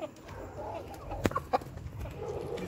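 A chicken clucks in a few short, nearby bursts amid a quiet indoor background with faint voices.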